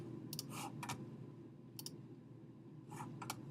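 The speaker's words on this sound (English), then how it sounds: "Now I'm going to want to click" Several sharp computer mouse clicks in small bursts over a steady low hum, close and fairly quiet, with no talking.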